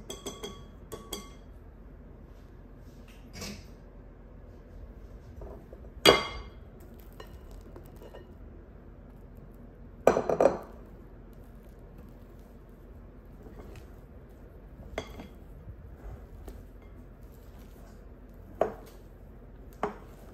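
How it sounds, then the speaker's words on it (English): A big spatula folds two matcha sponge mixtures, a whipped batter and an egg yolk base, together in a bowl. Soft scrapes are broken by a few sharp clinks of the spatula against the bowl, with no talking. "we're going to use a big spatula to fold the two mixtures together"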